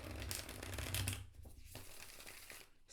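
Tarot cards riffled and shuffled close up, a crisp fluttering burst followed by softer shuffling and tapping.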